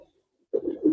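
Racer pigeons give a short, close, soft cooing call that begins halfway through a brief moment of quiet.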